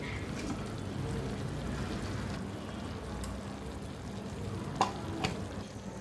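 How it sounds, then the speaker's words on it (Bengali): Chicken pieces frying in a pan with ground spice paste and whole garam masala for an easy chicken curry, giving a steady broadband sizzle with occasional stirring clicks, close and continuous with no talk. "মুরগিটা এভাবে ভালো করে ভেজে নিতে হবে"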